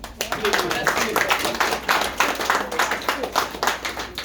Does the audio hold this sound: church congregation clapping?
yes